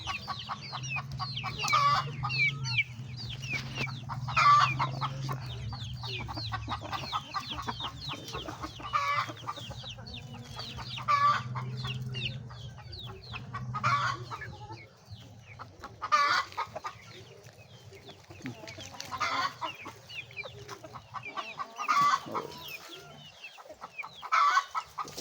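Rhode Island chickens and a rooster on a poultry farm, clucking and calling repeatedly in short bursts at fairly regular intervals over a low background hum, close and clear.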